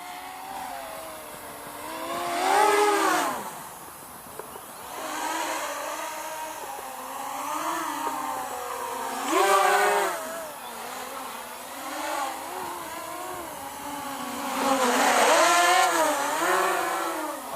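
An FPV racing drone, the JYU Hornet S of nearly 600 grams, flies past in repeated swells, its whining motors rising and falling in pitch as it nears and recedes three times, with a steady buzz in between.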